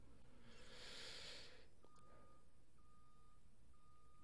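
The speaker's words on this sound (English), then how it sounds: "You hear that truck backing up?" Reversing beeps from a truck backing up, a steady tone repeating about once per second at a moderate distance, following a brief burst of hissing air.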